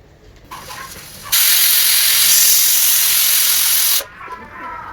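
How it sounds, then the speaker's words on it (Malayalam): A pressure cooker cooking rice lets off a loud, steady steam whistle that hisses for about three seconds, with quieter hissing before and after. "നമ്മൾ കുക്കറിൽ വെച്ചു കേട്ടോ ഇനി ഒരു മൂന്ന് നാല് വിസിൽ വരെ വെയിറ്റ് ചെയ്യാം"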